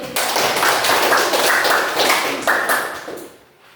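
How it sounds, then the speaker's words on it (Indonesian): A school class claps together in a brisk, continuous burst of applause that fades out at the end, close and loud. "Tepuk tangan dulu."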